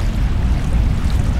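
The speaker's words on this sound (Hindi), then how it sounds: "पानी का एनिमेशन तो देखो कितना प्यारा है।" Water in the video game INSIDE gives a loud, steady low rushing wash like waves and wind, continuous and broadband with no distinct splashes or voices.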